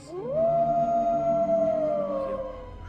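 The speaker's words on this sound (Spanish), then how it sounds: "Y el aullido vuelve a escucharse, confirmando sus temores." A single long, eerie howl rises, holds a steady tone, then slowly fades, played as a sound effect during a live horror reading. It carries over a low background hum.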